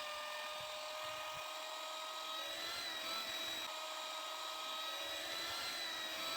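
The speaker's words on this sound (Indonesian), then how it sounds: "Kalau kita nge-mixer adonan itu dengan hand mixer" Electric hand mixer whirring through donut dough, a steady high-pitched motor drone with a faint, even tone throughout.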